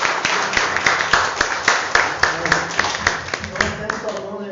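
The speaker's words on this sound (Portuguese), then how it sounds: "Uma salva de palmas para Jesus," Church congregation clapping together during a worship service, a rapid rhythmic pattern of loud hand claps over crowd noise and voices, fairly close and continuous for several seconds.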